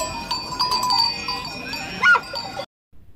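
A goat bleats once, briefly and fairly close, over a soft background of tones, then the sound cuts to near silence.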